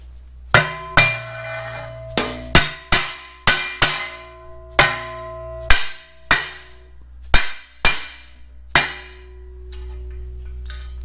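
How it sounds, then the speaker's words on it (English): Sharp metallic hammer taps on a Farmall tractor flywheel housing being seated onto alignment dowels during a clutch install, about a dozen ringing clanks in an uneven rhythm, close and loud, with a steady low hum underneath. "it's going to need to be tapped onto the alignment dowels"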